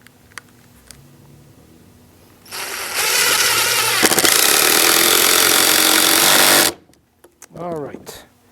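Power drill driving a screw into pressure-treated lumber while building a garden gate, a loud, steady whirring buzz lasting about four seconds that stops abruptly, followed by a brief faint voice.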